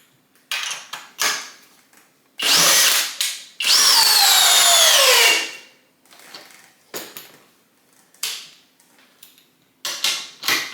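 A Flex compact cordless drill with a 2.5 amp hour battery drives a 1/4 by 4.5 inch lag bolt, making loud whirring bursts with rising pitch, separated by short clicks and pauses.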